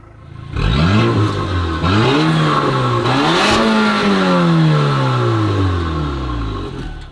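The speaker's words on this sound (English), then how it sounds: "Yeah, it is a lot meatier when that exhaust is open." A Porsche Macan SUV revs hard with its sports exhaust open, rising and falling engine pitch in several loud sweeps, close up and continuous with no talk.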